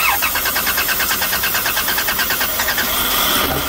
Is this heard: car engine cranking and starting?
yes